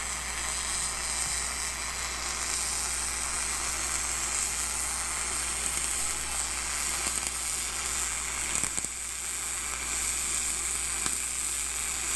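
Steady hissing, crackling arc from welding on a rail of the Fish Tale boat, a dense broadband sizzle running close and continuous throughout with a brief dip near the end.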